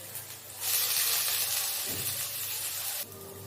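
Capsicums and carrots frying in a pan, a steady close hiss of sizzling that swells in and cuts off abruptly, with faint stirring beneath.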